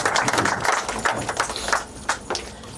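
Guests at a music album launch clap in a steady, dense burst that carries through the whole moment before tapering off with a few scattered claps.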